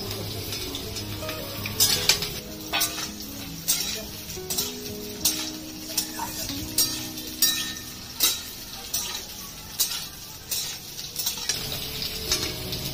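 Potatoes and cut eggplant frying in a pan for a vegetarian pumpkin-greens dish, with a steady sizzle under repeated scraping and stirring of utensils against the pan, rhythmic clinks throughout.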